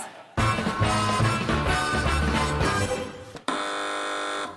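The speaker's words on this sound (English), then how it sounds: "Fingers on buzzers." Comedy panel show buzzers sound as a burst of loud, overlapping electronic tones and jingles from several contestants, followed after a short gap by one sustained flat buzz tone.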